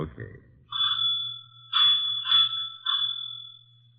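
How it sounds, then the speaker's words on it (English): An electric doorbell buzzes in three separate rings, a steady tone with short breaks between, loud and close after a brief noise at the start. "That is also why you had better ring the doorbell."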